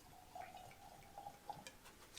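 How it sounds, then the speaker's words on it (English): Whiskey glugs from a bottle into a glass in a quiet, close pour, with a steady faint liquid trickle and a few soft gurgling pulses. "I'll let someone else pour us all some whiskey"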